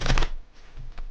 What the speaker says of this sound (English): I can even give the deck a shuffle